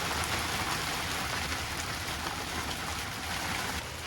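Hail falling outside a shed, a dense, loud, continuous patter of stones striking surfaces with no pauses and no voices.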